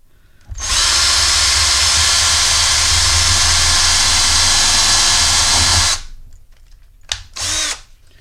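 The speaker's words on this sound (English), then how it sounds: "You drill it right through the center." A power drill bores through a metal snap on a leather vest, running loud and steady for about five seconds, then cutting off, followed by a few brief handling clicks.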